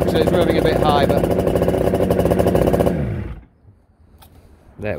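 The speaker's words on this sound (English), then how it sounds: "I've got it on choke, so it's revving a bit high" A Yamaha RD125 two-stroke motorcycle with chrome expansion pipes idles high on choke, a loud, busy engine note that runs steadily and then drops away abruptly, followed by near silence and a brief return of noise.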